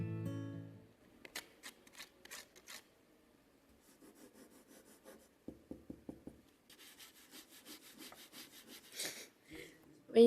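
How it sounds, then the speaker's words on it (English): A stick and a leaf rubbed and scraped together by hand, giving close, dry rustling and scratchy strokes in short bursts, with a run of sharper taps midway and a denser rustle toward the end. "Let me try and make some noise with this stick and leaf."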